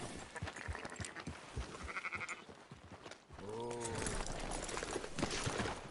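Sheep bleat in Red Dead Redemption, several wavering cries over hoof shuffles and ambient game sound, with a voice talking around them.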